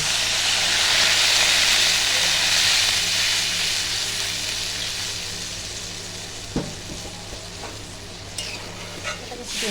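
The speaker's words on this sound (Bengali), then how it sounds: "কিছুক্ষণ ঝোলটাকে ফুটিয়ে নেব" Hilsa fish curry in a light mustard and poppy seed gravy simmering in a pan, a steady loud bubbling hiss that eases slightly, with a few sharp clinks near the end.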